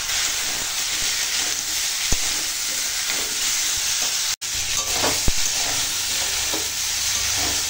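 Pumpkin, potato and soaked chickpeas frying with spices in a pan, a continuous close hiss and sizzle with faint scraping stirs and a couple of sharp knocks of a utensil.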